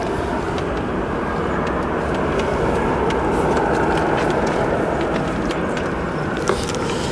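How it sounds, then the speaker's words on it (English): A Turkish Airlines airliner departs O'Hare airport, its jet engines making a steady, broad roar that holds at a constant level with a few faint clicks over it. "That Turkish will be departing to Houston Intercontinental."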